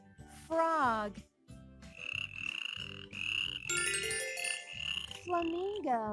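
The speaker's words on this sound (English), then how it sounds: "Frog." Frog croaking repeatedly in a children's animal-sounds lesson, clear and fairly loud over a steady, bouncy background music track.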